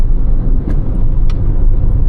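A Skoda Rapid 1.6 TDI Spaceback diesel car on the move, heard from inside as a steady low road and engine rumble with faint clicks and no talking.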